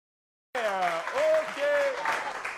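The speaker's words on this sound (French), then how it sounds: "On l'applaudit très fort, s'il vous plaît." Studio audience applause erupts on a French television game show, loud and continuous, with tonal voices or music sounding over the clapping for about two seconds.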